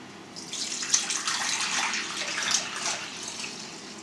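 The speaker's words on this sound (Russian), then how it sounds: "Рассол охладили и теперь зальем нашу рыбку." Cooled brine pours over pike perch being salted for hot smoking, a steady splashing gush of liquid that starts after a brief pause and runs on at moderate volume with no talk.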